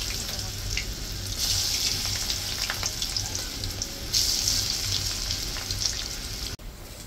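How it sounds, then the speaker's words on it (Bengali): Taro and gram fritters sizzle in hot oil, a steady loud crackling fry with brighter bursts partway through and a brief clunk near the end, no talking. "ছোলা কচুর বড়াটা ভেজে নিতে হবে।"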